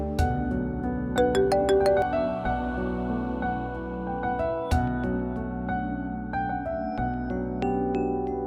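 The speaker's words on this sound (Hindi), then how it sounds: "फोन बज रहा है आपका।" A mobile phone ringtone plays indoors at a home in a Pakistani drama scene, a repeating melodic tune with steady rhythm, fairly loud and heard alone without talking.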